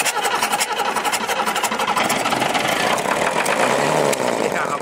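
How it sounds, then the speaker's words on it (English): Vintage Unimog truck diesel engine cold starting after the injector pump is primed, cranking and catching into a loud, rough, rapidly knocking idle up close. "we're gonna crank it, see what happens here"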